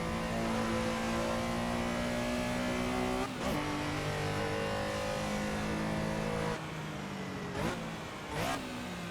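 Classic race car engine accelerating hard around the Nemuno Žiedas circuit in Lithuania, a loud, steady mid-pitched roar with rising harmonics and a few sharp gear-change breaks, heard up close without talk.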